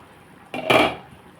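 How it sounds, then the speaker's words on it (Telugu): A ladle scoops boiling egg curry stew from a metal pot, a single short close scrape and clink against the pot with a bit of liquid, alone in a quiet room. "ఒకసారి మనం పులుసు తీసి చూసుకుందాం"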